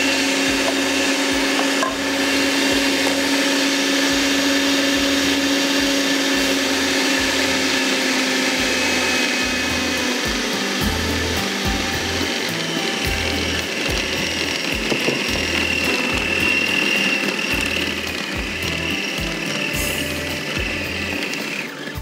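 A food processor kneads puri dough in a home kitchen, its motor whirring steadily with a grinding, ratcheting churn that runs close and loud without a break for the whole stretch.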